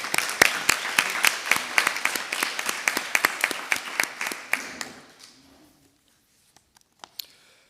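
Municipal council members applauding a newly elected second secretary, crisp individual claps from a modest group in a hall, thinning out and fading to silence, with a few stray claps near the end.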